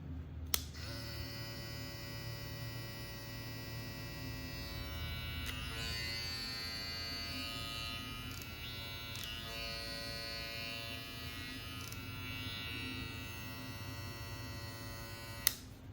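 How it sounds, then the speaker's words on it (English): A Matsui Classic M hair clipper with a rotary motor runs steadily and quietly, giving a constant electric buzz and hum throughout, with a few faint clicks and no talking. "That is a very, very quiet clipper, even for a rotary motor."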